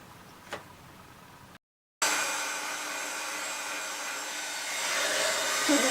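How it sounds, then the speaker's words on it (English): A heat gun blasts glue strings off fun foam flowers, switching on after a brief pause and then blowing as a steady, even hiss that swells slightly toward the end, with faint ticking beforehand. "I'm going to give it a quick blast with my heat gun"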